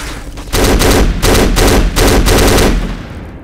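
Loud, rapid automatic gunfire in the Black Ops video game's Nazran Foundry mission comes in four sustained bursts separated by short gaps, close and dominant, with no talk.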